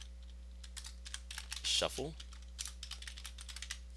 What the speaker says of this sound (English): that's easy enough just by typing